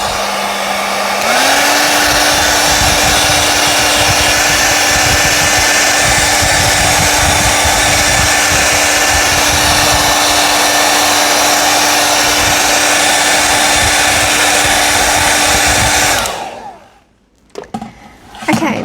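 Hair dryer blowing on wet watercolour paint, a loud steady whooshing roar with a faint tonal hum that rises in pitch just after switching on, running continuously for about fifteen seconds before cutting off abruptly.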